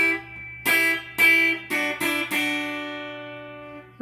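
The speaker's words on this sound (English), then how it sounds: "we're gonna learn how to play the second guitar, which is gonna first sound like this." A second guitar part from a song is played as a handful of strummed chords in an uneven rhythm, close and clear, with the last chord left ringing.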